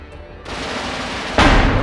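Counter-battery artillery fire in Steel Division 2 rolls in as a dense roar of distant gunfire, ending with a louder, sharper blast in the last half second.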